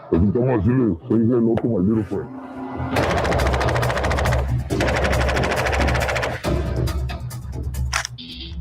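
Rapid machine gun fire from Tony Montana's gun in Scarface, a dense loud burst of rattling shots following a stretch of speech, with a voice heard over the start before the gunfire takes over.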